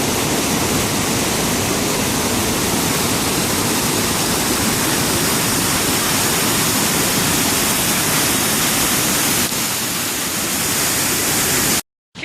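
Mountain creek near Avalanche Lake on the Trail of the Cedars in Glacier National Park, rushing over rocks upstream: a loud, steady, broadband roar of fast water filling nearly the whole clip, close by, cutting off abruptly at the very end.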